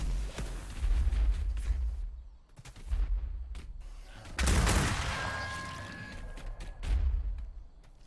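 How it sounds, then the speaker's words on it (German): Weapon fire in a roleplay video game comes as several loud, booming bursts roughly two seconds apart, each trailing off into quieter rumble. "Letzter Schuss für diese Waffe."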